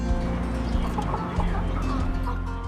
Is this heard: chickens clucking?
yes